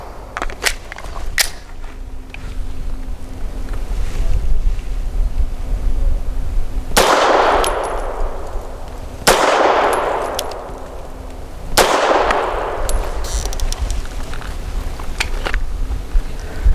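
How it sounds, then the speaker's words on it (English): A Grand Power LP380 pistol fires Hornady Critical Defense 90-grain silicone-tipped rounds: three loud, sharp shots spaced a couple of seconds apart, each followed by a ringing decay. "in circle number 4, we're going to put the Hornady's Critical Defense 90 grain with the silicone tip in them."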